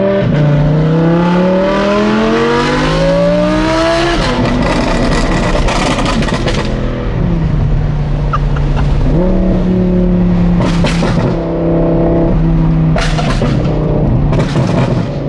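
An Audi R8's loud tuned exhaust revs hard with rising, falling engine tones, broken by sharp pops and bangs, close and continuous throughout.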